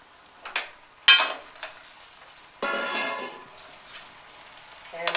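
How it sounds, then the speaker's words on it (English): Drained pasta mixed into meatballs simmering in sauce in a pan, a few wet scraping stirs and soft clatters with a longer slushy swirl midway, close and moderate, no talk. "And I'm going to just mix that. Be careful not to break the balls"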